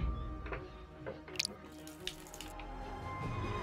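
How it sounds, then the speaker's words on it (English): A faucet runs in the video game Deponia Doomsday, a steady hiss of water with a few splashes and drips, alone and moderately close. "Ah, a well-functioning faucet."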